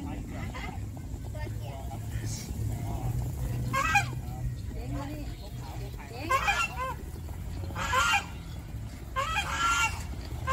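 Laying ducks at an agricultural museum farm in Navanakorn, Thailand honk and quack in short repeated bursts over a constant low background rumble, moderately near, with voices murmuring underneath.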